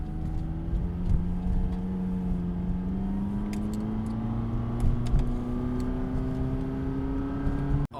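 A street legal race car's engine winds steadily while driving in winter, a continuous close drone with rising and shifting tones throughout, cutting off abruptly at the end.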